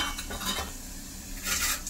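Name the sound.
whole cumin seeds frying in hot oil, being stirred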